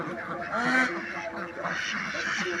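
Five-month-old laying ducks, kept confined, quack in a steady flock chorus, close and fairly loud, with overlapping nasal calls throughout.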